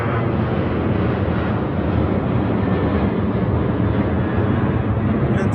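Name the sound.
airplane flying overhead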